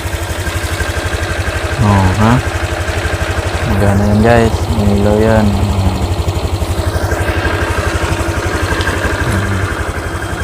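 A motorcycle engine idles close up with a steady, rapid mechanical pulse throughout, while someone talks over it in short bursts.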